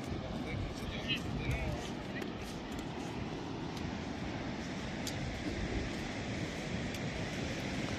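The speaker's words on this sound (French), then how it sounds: "Regardez la belle plage." Wind and surf rolling onto a beach in Rota, Spain, a steady broadband rush with low rumble that holds evenly throughout; people chat faintly in the background.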